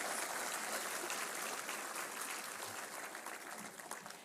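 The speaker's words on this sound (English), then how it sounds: "Let's have a big round of applause to our dignitaries on the dais" Steady, fairly quiet applause from an audience greeting the dignitaries on the dais at a pharmacopoeia release ceremony, continuous for the whole stretch with no voices.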